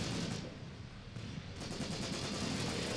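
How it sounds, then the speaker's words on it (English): Enemy artillery shelling around a position in the WWII tactics game Graviteam Tactics: Mius Front, heard as a constant, moderately loud rumble of blasts and crackling fire with no voices on top. "We are being hit by the enemy artillery. We can see it bombing and pounding around us."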